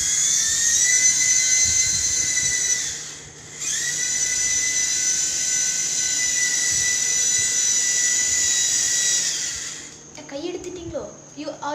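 A rattan RC toy helicopter's small electric motor whines at a high, steady pitch, dipping briefly around three seconds and cutting out near ten seconds. It sounds close and loud, with a voice faintly underneath.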